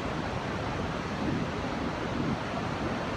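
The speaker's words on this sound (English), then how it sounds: "At least enjoy the ocean." Ocean surf washes steadily at a beach on a calm, fine-weather day, a continuous broadband roar with gentle swells and faint wind, no voices present.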